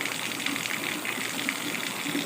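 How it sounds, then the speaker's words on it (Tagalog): Heavy rain pours down in Antipolo City, a dense, steady hissing gush of water with no pauses and nobody talking. "lakas na naman ng ulan"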